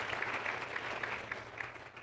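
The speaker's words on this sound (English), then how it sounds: "Let's give her a round of applause." A State of the City 2019 audience applauds a city official: brief, even clapping from a seated crowd, moderately loud and unbroken, with no speech over it.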